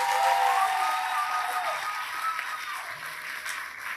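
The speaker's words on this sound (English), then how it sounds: "Let's give them all a round of applause." Crowd applause fills a high school coronation for the school club kings and queens. Steady, dense clapping starts strong and slowly tapers, with a faint tone drifting over it.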